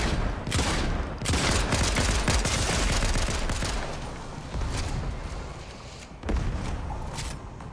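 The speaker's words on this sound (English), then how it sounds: "I just dropped a grenade down there" Fortnite battle with grenade explosions and gunfire: dense, continuous blasts and shots pound loudly throughout, with a fresh sharp burst near the end and no talk over it.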